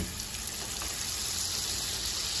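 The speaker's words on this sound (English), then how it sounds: "just make sure your pan is really, really hot before you put your steak in there" Steak searing face down in a very hot pan with butter, a steady loud broadband sizzle and crackle filling the whole clip with no talk.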